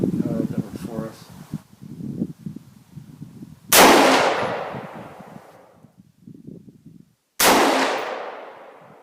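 Two loud, sharp AR15 rifle shots firing 68 gr Hornady BTHP hand loads with Reloder 15 powder ring out several seconds apart, each decaying in a long echoing tail, with someone talking before and between them.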